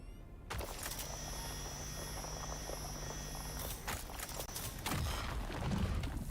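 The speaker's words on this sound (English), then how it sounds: "We can definitely get a lot more resources per run when we use the assault helicopter without the rockets." Assault helicopter without rockets flying over the Deep Desert in a survival video game, a steady loud rotor and engine drone with constant whine tones throughout, plus some thumping and shifting noise near the end.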